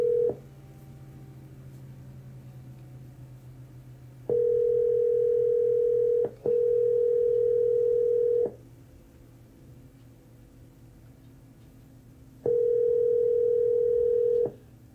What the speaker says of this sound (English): But I'm going to call her right now